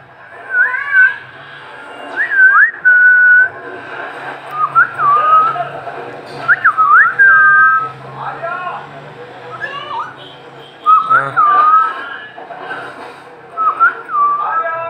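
A pet cockatoo gives a run of shrill, warbling whistles and squawky calls indoors, repeated in short bursts for several seconds, loud and close, with a faint low hum in the background.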